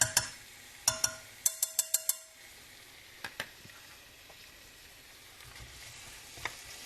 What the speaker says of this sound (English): We're just going to saute these until the onion turns clear.